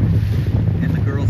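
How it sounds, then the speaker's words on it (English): Strong wind buffets the microphone aboard a sailboat during a Thanksgiving Day regatta, a loud continuous low roar with gusty rumbling, and a voice speaks faintly underneath. "Second B, the wind has come back up."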